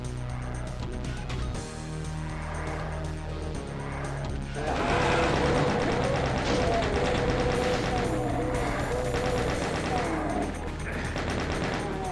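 Weapon fire in the video game Doom, with a sudden burst of loud, rapid, sustained shooting and explosive blasts after a quieter stretch of droning game sound, and a voice faintly present underneath.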